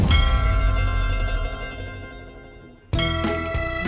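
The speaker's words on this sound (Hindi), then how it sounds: "ये घंटी सुनाई दे रही?" A bell rings with a bright metallic tone and a long, fading decay, then is struck again sharply near the end and rings on.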